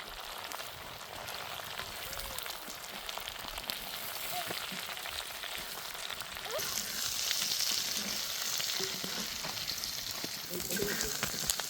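Drumstick leaves fry in an earthen pot, giving a steady soft sizzle that swells a little louder partway through, with faint stirring scrapes and no one talking.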